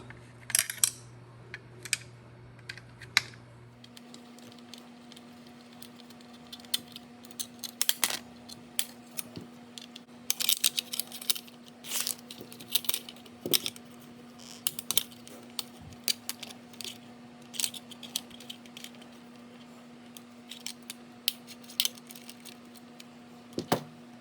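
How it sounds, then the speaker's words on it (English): Nuts and bolts are taken off a nail gun during a teardown, giving scattered small metallic clicks, taps and ratcheting ticks close by over a low steady hum, with no talking. "whenever I see a nut and bolt, I'm taking it off"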